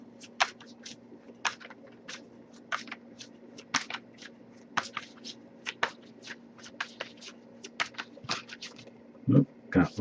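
Tarot cards are shuffled by hand in quick, crisp riffles and taps, repeating irregularly over a low steady hum, ending with a couple of louder knocks.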